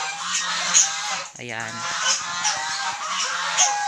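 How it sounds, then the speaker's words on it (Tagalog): Several geese honk repeatedly nearby, their harsh calls overlapping, while someone briefly speaks in the middle. "Yung mga alagang gansa."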